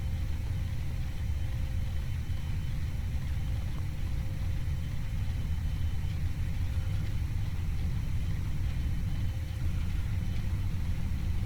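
Jet engines of a Boeing 737-300 at takeoff thrust in the X-Plane 11 flight simulator, a steady low roar with a thin whine on top, continuous and unchanging throughout.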